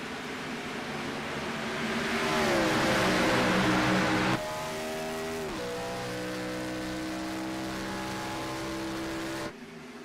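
A pack of stock cars roars up to speed at a green-flag restart at Las Vegas in a sim racing series, engines droning and rising in pitch together, loud and continuous before cutting to a steadier in-car engine tone.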